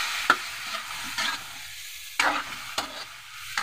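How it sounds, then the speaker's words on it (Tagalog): Chicken sautéing in a pan, with a soft sizzle and several sharp scraping stirs spaced irregularly, heard up close and with no talking. "Habang ginigisa natin,"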